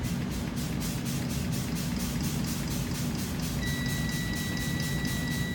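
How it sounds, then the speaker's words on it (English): A truck's steady, rapid low-air-pressure warning buzzer pulses over a constant low engine idle in the cab, with a thin high tone joining partway through. "indicator light has come on and my buzzer sound"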